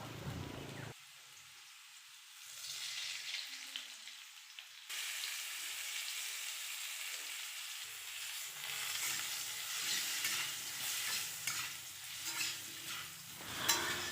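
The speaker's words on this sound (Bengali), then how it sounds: "কড়াইতে তেল দিয়ে আলুগুলিকে হলুদ লবণ দিয়ে ভেজে নেব" Boiled potatoes fry in oil with turmeric and salt in a wok, giving a steady sizzle that quiets briefly early on, then resumes with stirring scrapes and occasional louder crackles.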